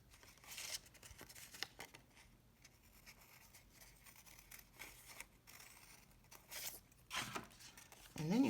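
Scissors snipping through paper while cutting out a small paper heart, with a few crisp cuts and crinkles standing out over a quiet background and some soft handling noise.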